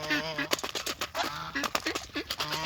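Geese honk in a series of short nasal calls at close range, mixed with other farmyard fowl noises, loud and irregular over about three seconds.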